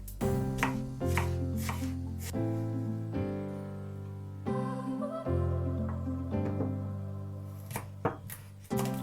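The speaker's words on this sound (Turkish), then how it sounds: "Havuç ve patatesi de soğan gibi doğradıktan sonra ocağa pişirme işlemine geçeceğim." A knife chops onion, carrot and potato on a cutting board while making a pumpkin soup for babies. Scattered, irregular chops land close by under steady background music, with no talking.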